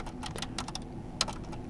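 Quick bursts of keystrokes on a computer keyboard as a command is typed into Windows PowerShell, a handful of close clicks in uneven clusters with one sharper tap near the end, over a low steady hum.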